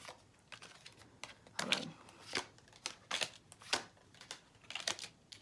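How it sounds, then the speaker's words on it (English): Tarot cards are shuffled up close during a love reading, producing quiet, irregular bursts of crisp papery riffles and slaps separated by short pauses. "if you guys see me shuffle in front of you"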